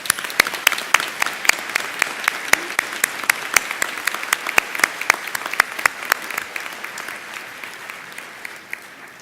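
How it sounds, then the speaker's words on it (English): Applause at a university commencement ceremony, a sparse crowd clapping with distinct sharp individual claps standing out, steady for several seconds and slowly fading toward the end. "I think another round of applause would be in order"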